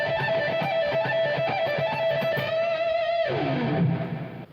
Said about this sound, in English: this next lick is a fast rock pentatonic lick